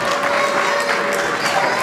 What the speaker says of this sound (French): Est-ce qu'on peut applaudir pour le papa s'il vous plaît?